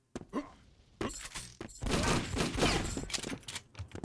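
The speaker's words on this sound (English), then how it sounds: "Here I just do a rocket jump up." Rocket jump in the video game Doombringer: a sharp blast at the start, then a second burst and a long, loud roaring explosion-like rush that slowly fades.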